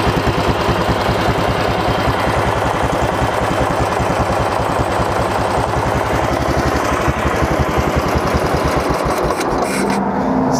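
Racing lawn mower engine, otherwise stock but with the governor removed and a 28 mm Mikuni carburetor, revving loud and raspy up close in a steady buzzing drone that winds down near the end.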